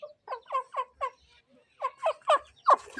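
A pedigree hen gives a series of short, clucking calls in two clusters with a quiet gap between them. The calls are close, clear and rising in intensity near the end.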